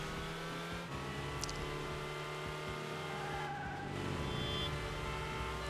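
Inside the Taxi 3 video game, a car engine drones and revs steadily with tire squeal and skidding, and a brief crunching impact comes from a truck slamming into the car.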